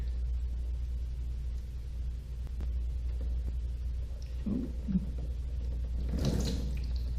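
Water draining out of the oil pan of a Mercruiser 3.0 marine engine under disassembly, a low steady trickle over a constant background rumble, with a brief louder gush near the end.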